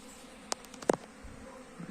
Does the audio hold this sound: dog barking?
no